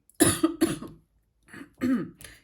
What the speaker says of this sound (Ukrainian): кашель знову повертається